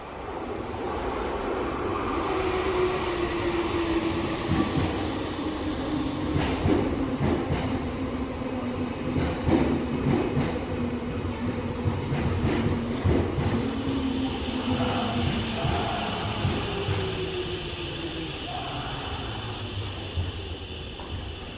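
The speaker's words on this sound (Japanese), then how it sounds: "The local train bound for Kita Senju is arriving at track 6." A Tokyo Metro Hibiya Line local train bound for Kita-Senju rolls into track 6 at Ginza Station with a steady rumble and a falling whine as it slows, with rattling and clanks over the whole approach.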